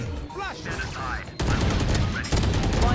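Gunfire in the video game Valorant: sharp bursts of rapid shots crackling loudly in quick succession, heard over excited voices chatting on a game stream.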